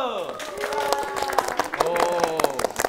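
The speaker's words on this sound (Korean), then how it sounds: "제작진분들의 박수 소리로 한번 심사를 해보도록 하겠습니다" Studio staff clap in a scattered, uneven rhythm to judge a dance, with sharp close handclaps mixed under overlapping talk and excited voices.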